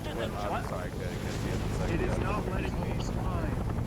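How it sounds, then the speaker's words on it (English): A Huey helicopter in a Vietnam War video game, a loud, continuous rotor roar mixed with wind-like rushing and busy noise, with voices talking over it throughout. "this jackass is flying that helicopter"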